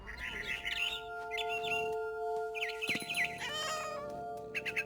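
A cat meows repeatedly in the video game What Remains of Edith Finch, mixed with bird chirps over sustained ambient tones, the calls coming in short clustered bursts close by.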